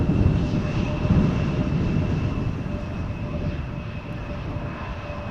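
An airliner lands at Schiphol Airport, a broad, steady roar of jet engines rumbling loudly and continuously throughout, slowly fading slightly toward the end, with no voices.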